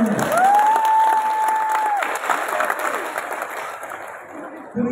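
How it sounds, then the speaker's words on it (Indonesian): Workshop audience of driving teachers (Guru Penggerak cohort 9) at a 2024 learning-showcase event in Bantul, breaking into crowd applause and cheering, opened by a long rising whistle, with busy clapping filling the room before thinning out. "Tepuk tangan semuanya."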